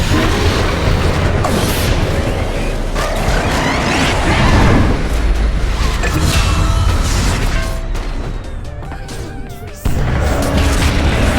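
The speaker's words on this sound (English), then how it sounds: "Its middle tower has fallen." Booming crashes and explosive impacts pile up in a dense, loud Dota 2 battle as the middle tower is destroyed, continuous clamour with one abrupt drop before the din resumes.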